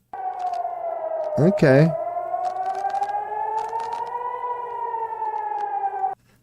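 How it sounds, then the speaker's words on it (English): A civil defense air-raid siren wails steadily with a slowly rising and falling pitch, loud and continuous for about six seconds, with a brief clattering noise early on and one short spoken word. "There's like bomb sirens going off."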